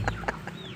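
A chicken gives a few short, close clucks in quick succession, with a brief squeaky note trailing off at the end.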